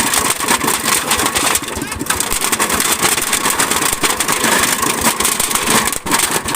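An engine-driven cassava grinding machine runs loud and close, a constant roaring, rattling drone with crushing and grinding noise throughout.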